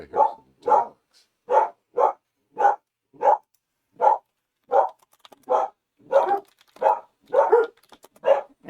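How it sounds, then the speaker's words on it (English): Dogs in Horizon Forbidden West bark over and over, roughly a dozen sharp, clear barks at a steady rhythm, close and fairly loud with no talking. "I think I hear some dogs."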